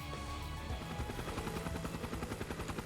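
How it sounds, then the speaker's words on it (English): Attack helicopter passing overhead in a first-person shooter game, a loud, steady rotor chop pulsing rapidly throughout, with dense gunfire-like rattling layered in and no talk. "It's above us. It's an attack helicopter."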